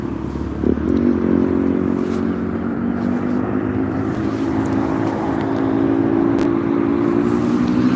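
A motorbike engine drones steadily with a rising and falling pitch as it passes nearby, loud against a noisy seaside background at Southport.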